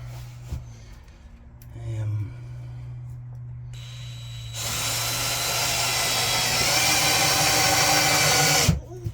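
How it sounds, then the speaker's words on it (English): After some faint handling noises, an impact drill starts up and runs loudly and steadily on its hammer setting for several seconds before stopping, at an allotment shed. "You can use this as an impact drill simply by putting it onto the hammer setting"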